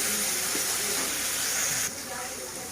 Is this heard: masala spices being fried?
yes